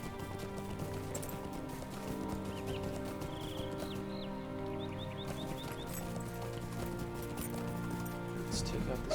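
A horse galloping in Lord of the Rings Online gives a steady run of hoofbeats with an occasional whinny, under ongoing talk and game music, at moderate loudness throughout.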